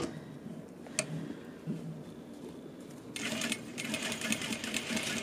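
Sewing machine stitching a zipper and binding into a jacket, starting with quiet ticking and handling, then running in a steady fast rattling stitch at close range for the final seconds.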